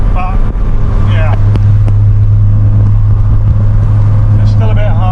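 A car engine held at a steady throttle in fourth gear, a constant loud hum and rumble from inside the cabin, with someone talking over it.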